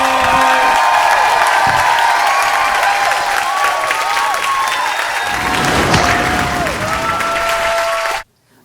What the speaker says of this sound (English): Start clapping, make some noise.